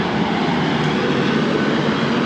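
A train passes along Playa de Palma on Mallorca, making a dense, continuous roar that stays loud and even from start to finish, heard close by without any talking.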